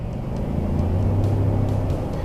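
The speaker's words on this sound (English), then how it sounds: "the only time that you hear the engine is when you get on the gas" The 3.5-liter EcoBoost V6 of a 2015 Ford F-150 Platinum 4x4 SuperCrew pickup accelerates, heard from inside the cabin as a steady low engine hum that swells and rises in pitch, with no talking.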